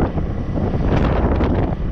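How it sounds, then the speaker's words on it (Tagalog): Strong wind roars and buffets against the microphone, with a dull wash of sea behind it and no voices. "So ganda ng dagat ngayon, kahit sobrang lakas ng hangin"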